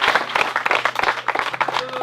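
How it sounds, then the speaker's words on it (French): An audience applauds at a project review event, a steady patter of many hands clapping at moderate distance, dense and continuous for a couple of seconds with no voices over it. "ça mérite une tonne d'applaudissements"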